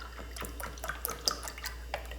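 One cup of unsweetened Westsoy soy milk going into a blackberry cobbler batter: soft, scattered liquid drips and splashes, faint and close, with no voices.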